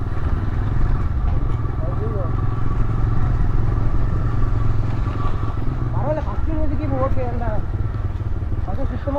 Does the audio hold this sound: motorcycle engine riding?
yes